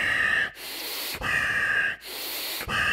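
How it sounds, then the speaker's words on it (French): Deep breathing during a pranayama exercise: three long, forceful hissing breaths separated by short pauses, close and clear with no talking. "Et 5 respirations profondes."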